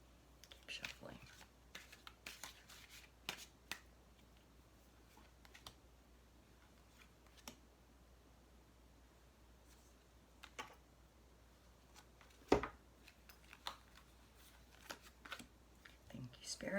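Soft riffling and tapping of tarot cards being shuffled in quick bursts, close and quiet, with a faint hum underneath.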